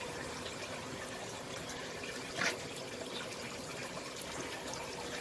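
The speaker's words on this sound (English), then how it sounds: "adding a bit of water." Water trickling and pouring into a waterstop mortar powder mix, a soft continuous liquid splash at close range with one brief louder spill midway.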